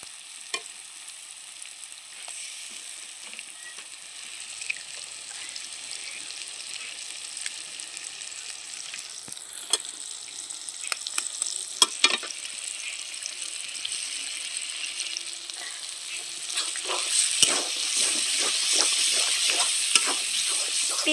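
Vegetables and three eggs sizzle and fry in a pan for egg chow mein, a steady hiss of hot oil with intermittent scraping and stirring clatter that grows busier and louder toward the end.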